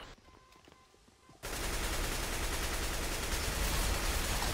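Sustained, loud, dense gunfire from the video game CS:GO in a co-op match, starting abruptly after a quiet stretch of faint background noise and continuing without a break.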